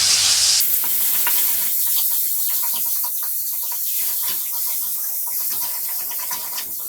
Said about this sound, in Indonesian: Setelah panas, yang pertama kita masukkan bumbu yang sudah kita haluskan tadi.